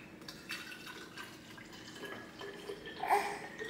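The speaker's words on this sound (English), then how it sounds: "Then I take a regular bottle, get my distilled water room temp." Room temperature distilled water is poured into a baby bottle in a home kitchen, giving soft, irregular trickling and dripping splashes that swell briefly near the end before easing off.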